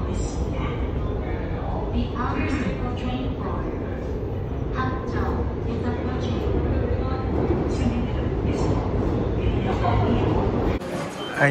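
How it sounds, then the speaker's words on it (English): A Seoul subway train rumbles steadily through the whole stretch while people chatter nearby, ending with a brief clunk. "mamimiss ko yung tunog ng Korean subway"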